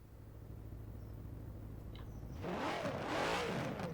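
A Zenvo TSR-S engine in Forza Horizon 4 idles with a steady low hum, then revs up sharply, its pitch swooping up and down several times.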